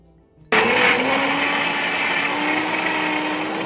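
A mixer grinder blends mango pieces in its jar, roaring on suddenly after a brief quiet start and then running loud and steady to the end, with no voices.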